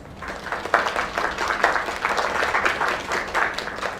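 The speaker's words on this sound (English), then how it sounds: "Another round of applause." Video-game crowd applause fills the scene, a dense steady clapping from many hands that holds at moderate volume throughout without voices over it.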